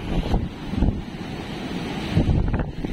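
Strong wind roars and storm waves surge along a flooded shoreline in Dinahican, Infanta, Quezon during Super Typhoon Pepito, heavy gusts buffeting the microphone with loud rushing swells and no speech.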